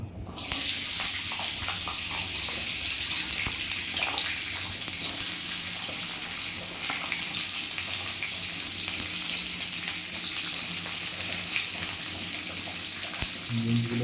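Green beans frying in a pan of oil right after cauliflower, giving a steady, close, loud sizzle that runs unbroken through the whole stretch with no talking.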